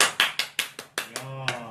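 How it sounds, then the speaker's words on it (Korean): Hand clapping, about seven sharp, evenly spaced claps close to the microphone, with a short voice breaking in near the end. "박수!"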